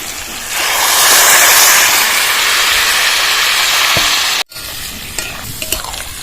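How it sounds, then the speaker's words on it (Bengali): Cauliflower boiling water poured into sizzling fried masala bursts into a loud rushing hiss that holds for several seconds, then cuts off abruptly before quieter sizzling and a few stirring scrapes follow, no talking. "মশলাটা ভালোভাবে কষানো হয়ে গেছে এবার ফুলকপির বয়েলটা ঢেলে দিচ্ছি"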